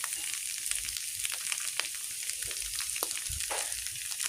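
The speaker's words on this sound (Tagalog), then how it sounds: "ginisa ko ngayon ang ating giniling" Ground meat for picadillo sautés in a pan with a steady, close sizzle, broken now and then by short scraping stirs.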